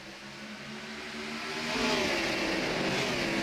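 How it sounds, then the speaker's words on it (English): A Gen 6 stock race car in a Daytona International Speedway racing video game revs high after a missed shift, its engine note climbing and swelling into a loud, continuous whine with no talk over it. "sounded like maybe Turner or Parham might have missed a shift right there. You heard it really revving high"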